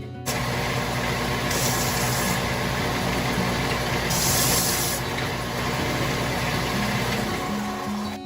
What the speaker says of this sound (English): now I'm going to sand them on my sander